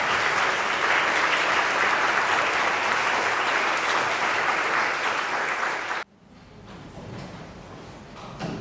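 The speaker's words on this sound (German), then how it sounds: "Und bitte noch einen Applaus für Fred Scholz." Farewell celebration for a professor: an audience gives sustained, loud applause for about six seconds, then it cuts off abruptly into quieter room noise with a few scattered claps.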